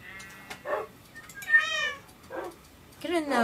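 A Minecraft cat meows several times in a game setting, with short, bright, rising-and-falling calls spaced across a few seconds and a person talking in between.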